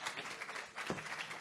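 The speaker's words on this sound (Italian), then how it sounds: "Applauso." Audience applause at an Italian award ceremony for emerging songwriters: a soft, distant wash of clapping fills the hall as someone is called to the stage, steady and faint throughout.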